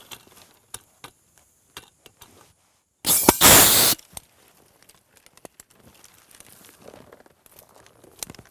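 A single pruning cut through a branch on an apple tree, leaving a stub: one sharp, loud crunching snip lasting about a second, set against quiet outdoor rustling and faint clicks.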